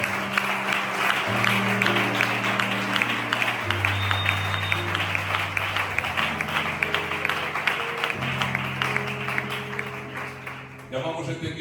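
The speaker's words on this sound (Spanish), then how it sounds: "Da un aplauso para el Señor." Congregation applauding inside an evangelical church, steady broadband clapping sustained for about eleven seconds under sustained organ or keyboard chords, with voices mixed in before the clapping thins at the end.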